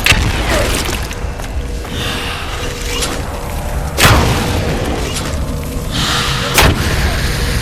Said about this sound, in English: Small explosion, small success.